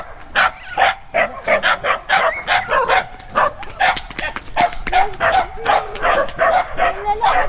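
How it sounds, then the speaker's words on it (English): A dog barks in quick repeated bursts, with some yips, close by on a lockdown street walk in Naga City, Philippines, while people talk over it. "I just love dogs like that."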